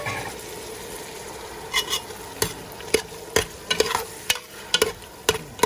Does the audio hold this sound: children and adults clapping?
no